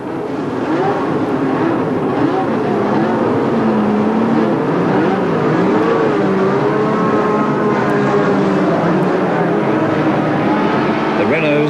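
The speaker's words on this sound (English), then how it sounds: "So the engines came to life" Formula One turbo and non-turbo cars from Renault, Ferrari and Brabham run a warm-up lap at the 1982 South African Grand Prix, with a continuous wavering drone of several engines and a commentator talking over it.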